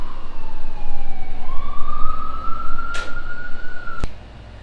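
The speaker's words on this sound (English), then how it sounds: "the sirens are just part of New York City" An emergency vehicle siren wails through a New York City street, loud and fairly close, its pitch sweeping up and holding over steady traffic rumble, with no talking.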